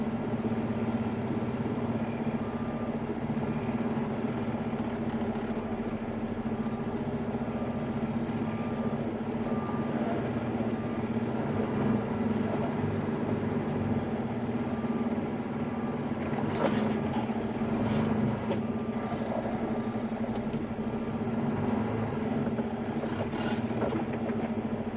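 Truck hauling a load of dirt to a bridge construction site, its engine droning steadily at a low, constant pitch throughout, close and continuous with no talk.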